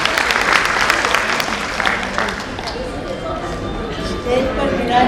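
Audience applause at a Jain women's association's 50th anniversary celebration in Vadodara, a steady wash of clapping from a hall crowd lasting throughout, fairly loud and even, easing slightly midway before swelling again.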